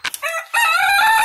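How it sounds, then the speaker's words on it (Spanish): Polish roosters crow in a loud, close call with a short rough start and then a long, rising, sustained note that rings to the end. "Aquí tenemos los dos gallitos polacos, con una gallina polaca y un pollito"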